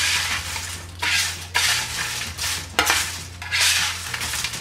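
Kale leaves tossed together with lemon zest and seasoning in a bowl, bursts of crisp rustling and scraping repeating every second or so, close and fairly loud, with no talk.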